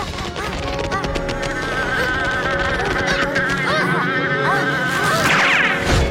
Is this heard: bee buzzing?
yes